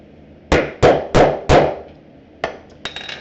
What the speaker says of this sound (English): I'll put my setter over it, and I'm going to whale it pretty hard to get that washer down on there like it needs to be.